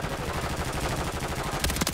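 Sniper and automatic gunfire in a first-person shooter video game, a dense steady crackle of shots throughout with a couple of sharper, louder reports near the end.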